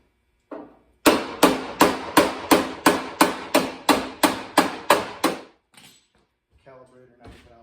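About a dozen evenly spaced, sharp metal hammer blows dimple a carburetor clamp piece for a Kadron to Weber conversion. The strikes ring out loud and close, followed by a few faint knocks and a brief voice.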